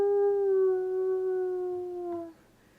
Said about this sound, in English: Tarvin just howled in the cold night air.